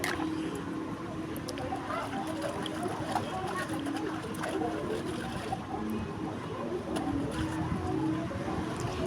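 Clothes washed by hand in water: continuous splashing, sloshing and trickling, steady and fairly close throughout.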